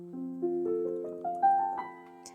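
A low sustained tone with a series of rising notes stepping upward above it, played alone at moderate volume.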